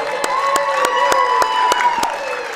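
At a boys high school basketball game between Culver City and Bremen, the home crowd cheers and whoops loudly, with sustained voices and sharp, evenly spaced claps or stomps beating through the noise.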